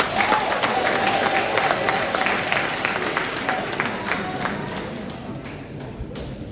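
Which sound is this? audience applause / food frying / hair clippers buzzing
audience applause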